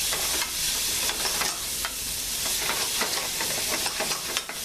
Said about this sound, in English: I have a little oil in the skillet there. Give a little stir.